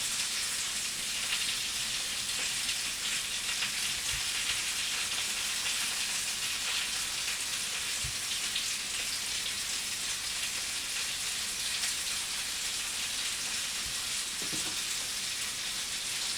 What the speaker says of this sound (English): Put it in the pan, and now I'll season the skin side.